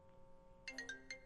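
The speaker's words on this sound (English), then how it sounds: "that was my phone via my computer that was ringing" A phone rings through a computer, faint and tinny, a short run of repeated bright electronic ring tones beginning partway in over a quiet background hum.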